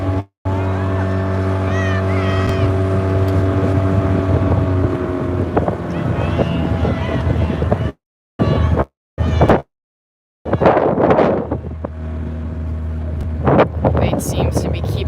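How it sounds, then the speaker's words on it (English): Steady wind rumble buffets the microphone alongside a droning boat engine on the water during a rowing race, with a brief cutout and voices partway through. "It's a little windy right now."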